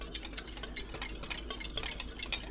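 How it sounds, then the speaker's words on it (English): A whisk beats homemade poutine gravy in a pan until smooth, a steady run of quick metallic ticks and light scraping with no voices. "Oh yeah, whisk away."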